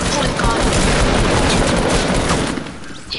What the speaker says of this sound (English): That guy shooting.